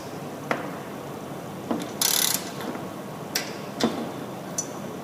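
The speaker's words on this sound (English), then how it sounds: "Using my 10mm socket, I'm going to tighten this up until my torque wrench clicks." A torque wrench with a 10mm socket tightens a bolt during small engine assembly, giving sparse, sharp ratcheting ticks and one brief metallic burst, close and isolated over a steady background hiss.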